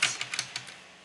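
About half a dozen crisp keystrokes click on a computer keyboard in quick, uneven succession, close and clear, then quiet.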